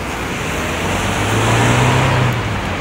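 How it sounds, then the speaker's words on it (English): A Suzuki Jimny pulls away, its engine rising as a steady near rumble that swells in the middle and fades off, with no voices. "And there the Jimny goes."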